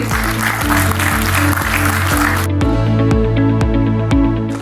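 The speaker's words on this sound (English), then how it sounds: "can we have a huge round of applause for him?" A crowd at the Lifting India Safety Awards 2025 claps steadily in a dense burst of applause that thins out into scattered claps, heard over a continuous low hum.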